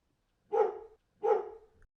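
A dog barks twice in a film clip being edited, two clear, close, evenly spaced single barks separated by silence.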